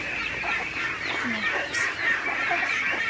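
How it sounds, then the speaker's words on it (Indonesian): Chickens in a coop cluck and call in a busy, close chorus over constant hissing background noise, with short squawks scattered throughout. "Ini ada kandang ayam berisik ya."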